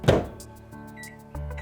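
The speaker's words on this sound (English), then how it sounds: "I want to pop this in the microwave for about 10 seconds, just to soften it" A microwave oven runs briefly to soften cheese spread: a door thunk, then a steady low hum with a faint electrical whine, and a second clunk near the end.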